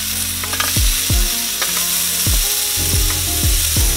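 Limpets sizzle loudly and steadily in a hot pan outdoors, with a bright continuous frying hiss broken by several sharp knocks as shells are placed or shifted in the pan.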